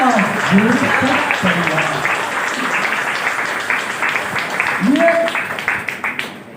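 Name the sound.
audience applause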